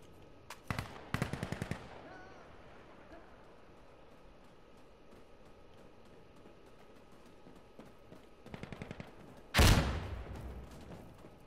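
Gunfire bursts in the video game Insurgency: Sandstorm, with short rapid volleys near the start and again near the end, capped by one loud heavy blast, while a quiet stretch in the middle carries only background rumble.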